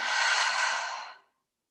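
A single long exhale during a guided meditation breathing exercise, a soft breathy sigh close to the microphone that fades out after about a second.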